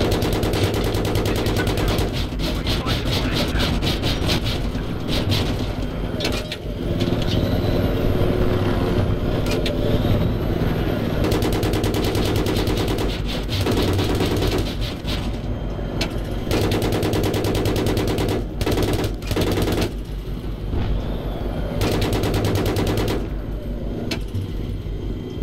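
Machine gun fire in Battlefield 3's co-op mission "Fire From The Sky," loud rapid bursts rattling almost continuously, broken by a few brief pauses, over a rumbling vehicle-like drone.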